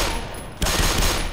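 Soldiers firing on the player in the Black Mesa video game, a dense continuous burst of automatic gunfire that fills the whole moment, loud and close, growing heavier after a brief pause.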